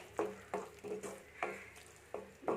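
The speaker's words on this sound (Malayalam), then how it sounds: "നന്നായിട്ടൊന്ന് ഇളക്കുക." A spoon stirs chicken curry with green chillies in a pan, giving rhythmic scraping strokes roughly every half second over a soft sizzle, close and fairly quiet, with no talking.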